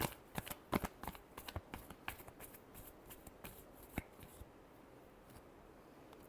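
Tarot cards being shuffled by hand, a rapid burst of crisp papery riffles and taps that thins into a few scattered, softer card snaps and slides before trailing off to quiet.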